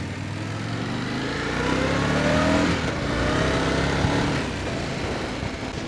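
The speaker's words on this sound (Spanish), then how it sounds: "Este nuevo motor reacciona muy bien" A 2025 Indian Scout motorcycle engine revs on the road, a strong, close engine drone that climbs in pitch as it accelerates, eases off briefly and then pulls again, with no voices over it.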